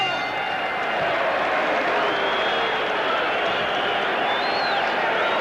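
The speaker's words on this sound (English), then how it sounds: "I think the crowd is applauding the courage of Steve Zouski as much as they're applauding the efforts of Mike Tyson" A boxing arena crowd at a 1985 Mike Tyson fight applauds and cheers in a dense, continuous roar of clapping and voices that stays loud and even throughout.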